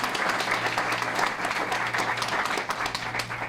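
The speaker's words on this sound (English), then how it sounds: "Let's give him a round of applause." Applause at a domestic violence press conference for the Phoenix police chief, a steady crackle of many people clapping with a low hum running underneath.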